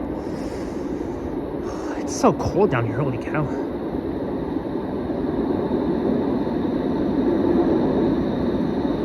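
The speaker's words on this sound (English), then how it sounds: "And now I can hear the LRV." Light rail vehicle rumbling by at a Toronto LRT station on Don Mills Road, a broad low roar swelling steadily louder toward the end beneath someone talking close to the microphone.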